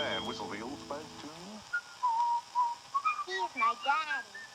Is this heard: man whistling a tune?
yes